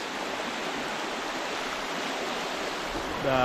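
Steady rushing water from a flowing Pennsylvania trout creek running high after rain, a broad continuous hiss with no pauses, close by and fairly loud throughout.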